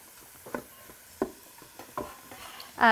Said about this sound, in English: We'll add those to the pot and start sauteing those.